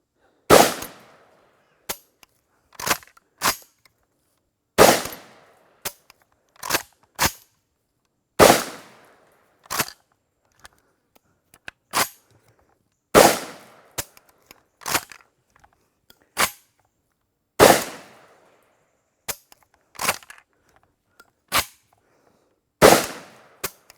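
Vepr 12 semi-automatic shotgun fired with underpowered ammunition, so each round goes off as a single shot: a string of sharp, loud, separate reports at irregular spacing, some close pairs, with brief echoing decay and no talk.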